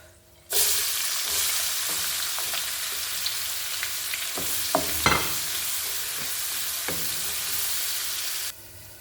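Onions frying in a pan for fish salona: a loud, steady sizzle starts abruptly and runs without a break, with scattered spatters and a few spoon scrapes midway, then cuts off near the end, with no talk.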